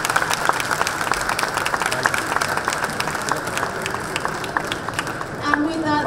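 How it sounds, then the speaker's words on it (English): Conference audience applauding at the close of a fintech stage session, a dense steady roar of many hands clapping with cheers mixed in, sustained for several seconds. "A big round of applause for Chris."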